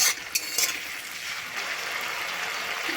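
Ginger garlic paste being stirred in hot frying oil in a pan, a steady close sizzle with a few sharp scraping clinks near the start, continuing evenly to the end.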